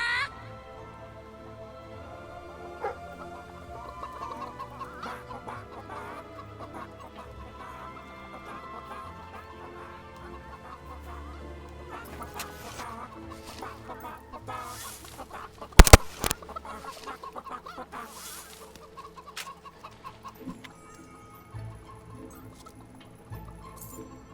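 Chickens clucking in the video game Fable 3, repeated irregular clucks over a busy game soundscape with music, steady throughout with a brief louder burst midway.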